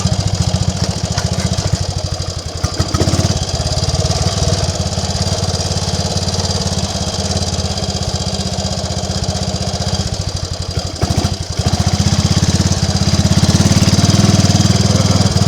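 Triumph Tiger Cub motorcycle ridden along country lanes after torrential rain, its small single-cylinder engine chugging steadily and loudly close-up throughout, with brief dips in revs and wind rush, no talk.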